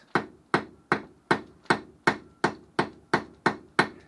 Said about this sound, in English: This is a cross peen. When you hit it like this,